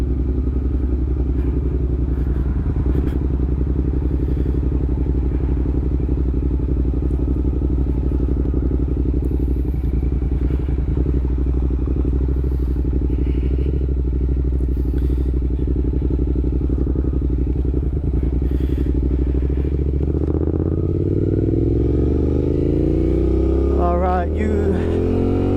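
A motorcycle rumbles loudly and continuously on a road ride, its engine drone shifting as it accelerates and revs near the end, with wind and some clatter throughout.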